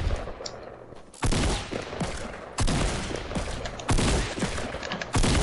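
Gunfire in the Fortnite video game, heard as four loud, sharp bursts spaced about a second and a half apart. Each burst is followed by a fading, noisy tail.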